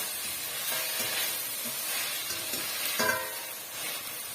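Tomatoes sautéing in a pan while making egg rice: a soft, steady sizzling hiss with faint stirring scrapes, close but fairly quiet, continuous throughout.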